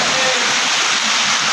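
Heavy rainwater pours down during flooding at a school, a dense, continuous rushing roar that stays loud and unbroken throughout with no voices.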